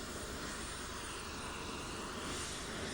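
Red Arrows jet aircraft flying a display practice in Cyprus make a loud, continuous roaring engine rush that stays steady throughout.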